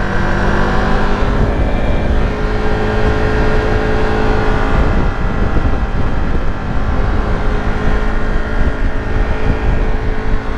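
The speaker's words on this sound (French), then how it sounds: "Le bruit quand t'accélères, en fait, quand tu montes dans les tours" A Paika Bike motorcycle's engine revs up as it accelerates, a steady, loud drone with a whining tone that holds for several seconds, backed by wind rushing past the microphone.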